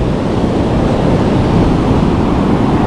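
Ocean surf at Diamond Beach, New South Wales rolls in as a steady, loud wash of breaking waves with wind noise across the microphone.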